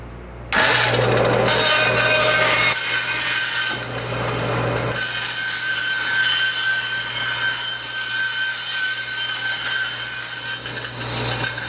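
Band saw cutting a circle from wood paneling set on a pin jig, a steady loud whine and rasp of the blade through the panel running almost continuously, with the cutting tone shifting partway through.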